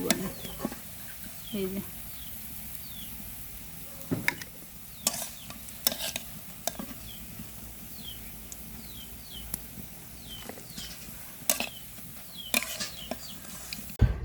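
Pumpkin flower and drumstick flower fritters frying in oil, a soft steady sizzle with scattered clinks and stirring scrapes, faint birds chirping in the background and a brief spoken word.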